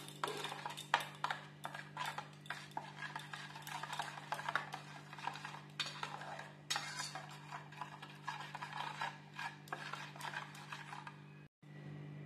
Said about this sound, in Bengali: এবার 1 চামচ টক দই দিয়ে ভালো করে মিশিয়ে নিচ্ছি মিশ্রণটা।